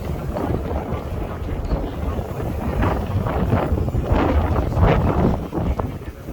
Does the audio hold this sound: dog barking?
no